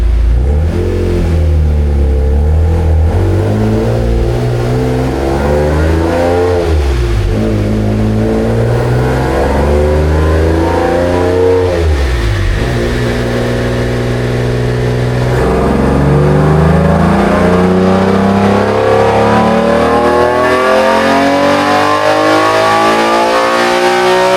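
Naturally aspirated 2GR V6 with a Frankenstein Motorworks package, about 350 whp, revving hard on a chassis dyno in third gear, climbing in pitch through repeated loud pulls with short lifts between them and no talk over it.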